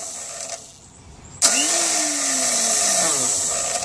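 Tecumseh 590670 snowblower engine being cranked with a starter whose gear fails to engage the flywheel: a sudden loud whine kicks in and holds steadily, with a falling tone sweeping beneath it.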